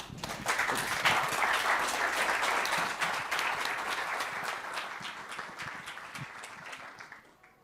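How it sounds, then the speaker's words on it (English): A conference audience at a retail and consumer goods business event applauds a speaker, with many distinct hand claps merging into a lively ovation that swells early and fades toward the end. "I would like to have a good applause to Alex"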